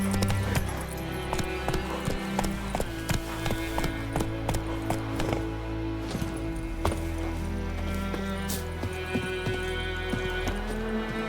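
Horse hooves clip-clop at a steady gallop in The Witcher 3, each hoofbeat crisp and close with continuous game music and ambience running underneath.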